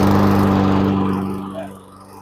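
Toro lawn mower engine being started after carb cleaner, a loud low rumbling drone with a strong hum at the outset that sags and fades over about two seconds as the attempt dies out.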